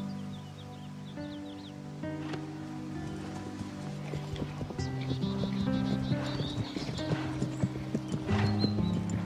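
Horse hooves clop steadily beneath swelling orchestral music, with a brief whinny-like cry rising partway through.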